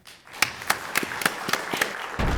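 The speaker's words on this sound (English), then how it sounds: "How about a round of applause?" Audience applause at a junior varsity quiz semi-final, a short burst of scattered claps spaced fairly evenly, close and moderately loud with no talk over it.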